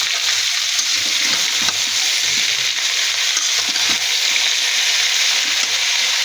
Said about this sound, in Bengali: আমি আর কিছু সময় ভেজে নিব এভাবে।